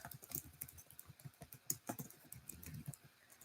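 Quick, irregular bursts of keystrokes as someone types on a computer keyboard, soft and close, with uneven pauses between the clicks.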